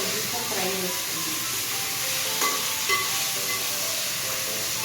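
Raw jackfruit pieces frying in oil for a jackfruit dum biryani, giving a steady, close, hissing sizzle with faint stirring clinks and no break throughout.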